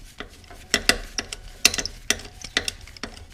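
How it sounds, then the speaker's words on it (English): A ratchet works a bolt loose on a Porsche Boxster 986 support plate, making quick bursts of sharp clicking strokes with short gaps between them, close and moderately loud with no talking. "take the bolt out and mark it where you took it out from"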